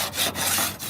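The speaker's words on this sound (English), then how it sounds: "scraping caulk around the windows" A 3-inch scraper scrapes caulk around windows on a brick exterior, a rough, close rasping with two or three quick strokes and no talking.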